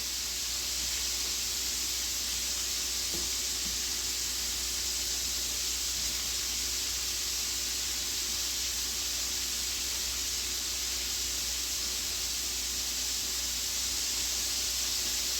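Steady, even sizzling hiss of chicken wings sautéing in a hot pan over medium-high heat, continuous and unbroken with no voices.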